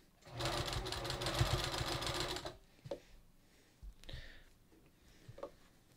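Sewing machine running a steady stitching burst for about two seconds while sewing a cowl neckline on knit fabric, then stopping, followed by quieter handling and rustling noises at close range.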